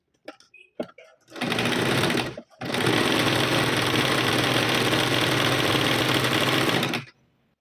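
A sewing machine stitches a blouse in steady, rapid running bursts, loud and close, with a short pause before a longer continuous run; a few faint handling clicks come first.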